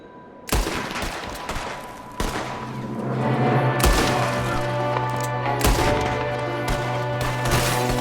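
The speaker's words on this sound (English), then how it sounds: "there's another one shooting from the window" Gunfire in the Red Dead Redemption 2 video game, several loud close gunshots cracking out at irregular intervals over a sustained droning musical score.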